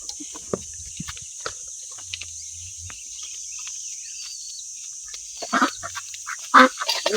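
Ducks and ducklings feed on crumble in a backyard pen, with soft scattered pecking and dabbling noises over a steady high hiss, faint peeps, and a few louder splashy bursts near the end.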